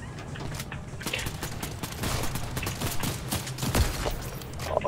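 A DMR fires in Fortnite, with a rapid, uneven string of close, punchy shots and mechanical clatter over a few seconds and no talk over them.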